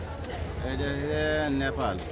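A Nepali Gir Pabna cow moos loudly and close by in a long, drawn-out low call at a cattle market, with a busy crowd murmuring in the background.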